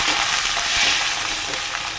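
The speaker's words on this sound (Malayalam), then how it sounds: "കപ്പലണ്ടി മൂത്ത് വരുമ്പോഴേക്കും നമുക്ക് നുറുക്കി വെച്ചിരിക്കുന്ന ക്യാരറ്റ്, സവാള, പച്ചമുളക്, ഇഞ്ചി, കറിവേപ്പില ഇട്ട് കൊടുക്കാം." Peanuts fry in hot oil with chopped carrot, onion, green chili, ginger and curry leaves for upma, giving a steady, close, unbroken sizzle with no talking.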